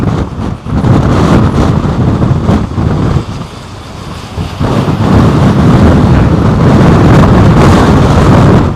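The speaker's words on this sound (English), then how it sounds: "Wind's intensifying once again." A strong storm wind roars at Heathrow Airport during Storm Henk, buffeting the microphone with loud, continuous gusts. It swells and dips briefly, then surges back even stronger.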